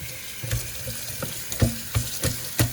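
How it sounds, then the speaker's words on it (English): A towel being rinsed under a running tap at home, with water splashing and squelching in short irregular pulses as it is wrung and moved, close and fairly loud, no talking. "Rinsing out the towel."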